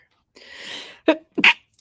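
A single sharp sneeze up close, an airy intake followed by two quick explosive bursts, indoors with no talk during it.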